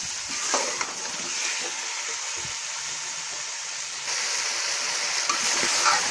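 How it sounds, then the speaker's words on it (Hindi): Potatoes being stirred into masala in a pan for a chonge and aloo dish, giving a steady close sizzle and hiss of frying with occasional soft scraping from the stirring. "अब इसके बाद हम आलू शामिल करेंगे और आलूओं को मिक्स कर लेंगे मसाले के साथ।"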